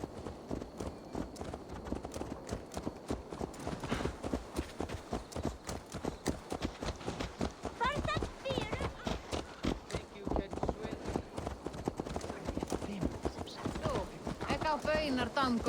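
Horse hooves clip-clop in a fast, steady rhythm in Assassin's Creed Valhalla, loud and close throughout, with game voices speaking over them.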